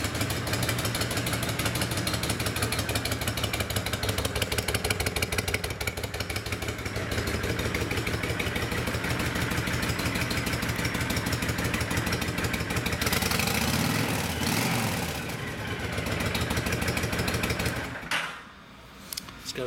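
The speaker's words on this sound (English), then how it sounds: "Starts right up, it's got a nice smooth idle." A Honda VTX1300R cruiser with a 1300cc engine idles steadily and close by, giving a continuous smooth, pulsing rumble that fades away briefly near the end.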